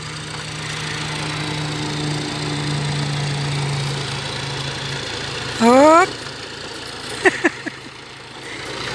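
A tractor engine runs steadily on a hot day at a farm smallholding, a low droning hum with a higher tonal whine, under a person's short exclamation and brief vocal sounds near the end.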